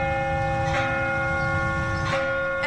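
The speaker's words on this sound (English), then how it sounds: "As you drive past St. Paul Catholic Church, these bells may be the first thing to get your attention" Church bells at St. Paul Catholic Church in Lexington, Kentucky, ringing with two clear strikes and long sustained resonant tones that hang in the air between them.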